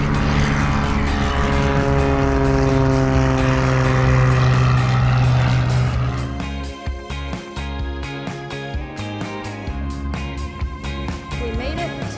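A Bonanza propeller airplane in flight, its engine droning loud and steady with a strong humming tone that drops and roughens after a few seconds as power is reduced, continuing as a pulsing rumble.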